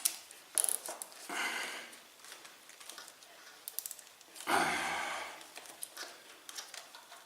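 A fastener is tightened onto a tab on a moped to stop a rattle: close ratcheting and scraping clicks come in uneven bursts, with one louder clunk partway through, and no voices.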